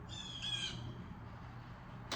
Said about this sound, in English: There's a bird going crazy